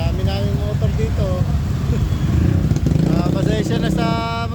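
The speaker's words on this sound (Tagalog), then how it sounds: "Mga brody, ang dami namin motor dito." Heavy traffic crawls along Marcos Highway in Cainta, with many motorcycle engines idling and revving close by, horns beeping now and then, and a continuous loud rumble of cars throughout.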